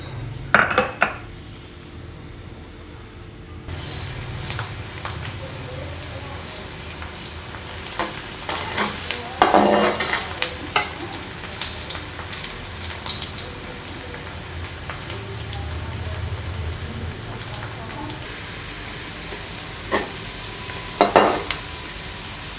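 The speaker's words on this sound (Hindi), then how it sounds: "प्याज डालती हूँ। प्याज जब गोल्डन होंगे तो फिर बाकी चीज़ें इंशाल्लाह मैं बाद में डालूँगी।" Onions frying in a pot for a black chana pulao, with a steady sizzle beneath repeated scrapes and clinks of a spoon stirring against metal, close and moderately loud throughout.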